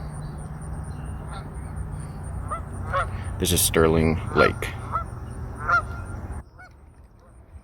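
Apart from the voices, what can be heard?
geese honking at Sterling Lake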